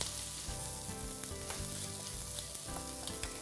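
Onion frying in a hot pan for mini quiches, a constant close sizzle and crackle heard alone at a moderate level throughout.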